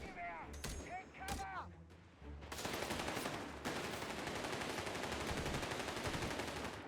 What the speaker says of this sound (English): So it looks like we're going to see a war of the heavy machine guns here for a little bit.